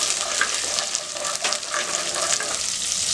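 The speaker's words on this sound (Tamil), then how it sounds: "பாருங்கள், வெங்காயம் இந்த அளவுக்கு வதக்கியாச்சு." Small onions, garlic and ginger sauté in a pan for mutton kurma, a close, even crackling sizzle with soft stirring scrapes throughout, no voices.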